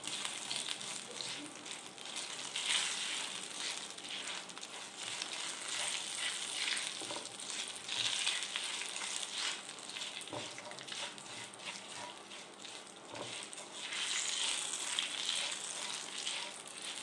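Asafoetida and dried curry leaves fry in hot oil as a tempering, a continuous close crackling sizzle with occasional stirring scrapes, steady and moderately quiet throughout.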